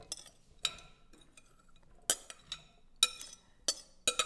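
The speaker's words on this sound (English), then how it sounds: "So we're going to add all our veggies into our skillet." Chopped vegetables drop into a skillet for veggie quesadillas with a run of crisp clinks and clatters, several distinct knocks spaced irregularly against otherwise quiet surroundings.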